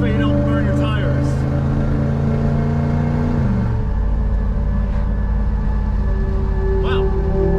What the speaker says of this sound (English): Go 69 Lincoln 0 to 60 take 2.